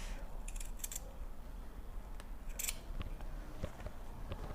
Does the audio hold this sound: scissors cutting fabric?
yes